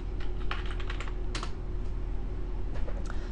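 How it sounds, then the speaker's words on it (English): Keys clatter on a computer keyboard during a software tutorial, several quick presses and taps at close range over a steady low hum, with no talking. "I'm going to press C on the keyboard to bring up a comment"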